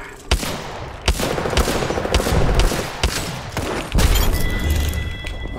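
Sharp, loud gunshots and booming impacts from an Apex Legends match, with several distinct cracks and stretches of rapid firing at close range, mostly without talk.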